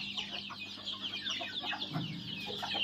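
Free-range village hens with chicks flock around scattered feed inside a farm shed, keeping up continuous overlapping clucking and high chick cheeping close by, with no talk.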